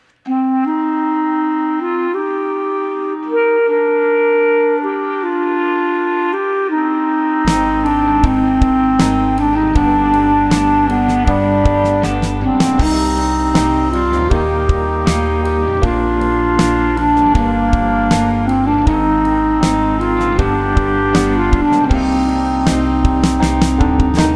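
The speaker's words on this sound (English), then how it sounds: "This is 2 clarinets" Two clarinets play "What Child is This?", one carrying the melody and the other a harmony; denser accompaniment joins after several seconds, sustained and moderately loud.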